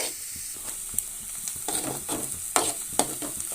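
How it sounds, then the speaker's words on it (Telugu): Onions and green chillies fry in oil under a steady close sizzle, with several scraping stirs of a spatula along the pan that come as sharp intermittent bursts, and no one talks. "ఇప్పుడు బాగా కలుపుకుని ఈ ఉల్లిపాయలు, పచ్చిమిరకాయలు ఈ ఆయిల్లో బాగా మగ్గబెట్టుకోవాలండి."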